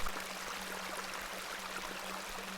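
A babbling beck in the game The Excavation at Hob's Barrow gives a steady, broad rush of running water, even and continuous throughout with a faint low hum beneath.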